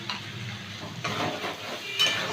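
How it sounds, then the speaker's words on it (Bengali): Ground spice paste with cumin and turmeric being sautéed in a pan for a cauliflower curry: a low, steady sizzle with scraping stirring strokes and occasional utensil clinks, close and fairly quiet. "মশলাটা এবার ভালো করে কষাবো।"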